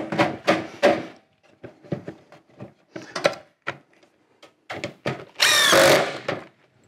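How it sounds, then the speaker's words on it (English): A power drill drives screws into wood while a wooden buck is built for Fox Blocks forms, heard as a series of short, loud whirring bursts and knocks, ending in one longer sustained run near the end. "So put a few screws in here and we're gonna actually build a whole buck here."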